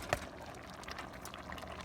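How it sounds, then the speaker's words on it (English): Potatoes and pumpkin are tipped back into a pot of homemade stew, with one quick splash at the start followed by soft liquid bubbling and faint sloshing. "Now I'm gonna pour back in the potatoes and the pumpkin."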